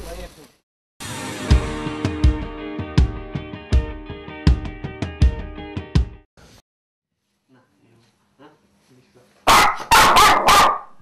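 A small dog, once a street stray, lets out a tight burst of several sharp, loud barks close by after a stretch of other sounds and quiet.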